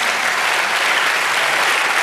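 A church congregation applauds in a loud, dense, continuous burst of clapping that fills the whole moment.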